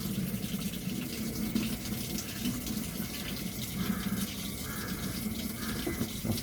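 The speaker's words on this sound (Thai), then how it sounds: "น้ำเข้าแล้วนะครับ" Water pours steadily into a Toshiba inverter top-load washing machine, a continuous close rushing and splashing with no break.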